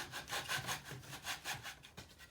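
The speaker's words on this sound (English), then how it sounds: "by sliding the hacksaw down on the inside, I've cut the heads off the nails" A hacksaw cuts through nails in pallet wood, sliding down between the boards, with a rhythmic back-and-forth rasp of roughly six strokes per second, fairly quiet and close, with no voices.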